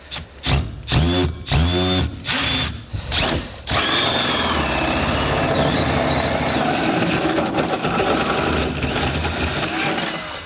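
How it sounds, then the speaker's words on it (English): A power drill whirs in several short bursts, then runs continuously as it bores a hole into metal while installing a fifth-wheel underbed hitch kit on a 2021 Chevrolet, loud and close, with no talking. "So let's just go ahead and drill our hole now."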